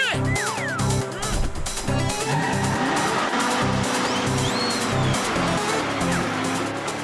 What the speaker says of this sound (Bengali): ঝটকা বড়দা, ট্রাক জোরে চালাও